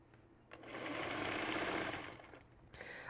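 A sewing machine stitches fabric pieces together along a seam, running in one steady burst of about two seconds that speeds up, holds, then stops, close and fairly loud with no talking over it.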